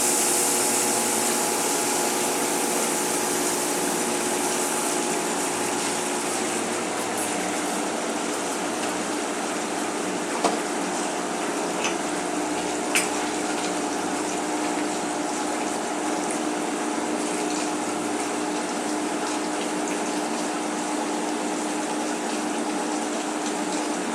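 A HydroGator water pump unit runs with a steady, continuous rushing whir of pumped water, loud and even throughout, with a couple of faint clicks.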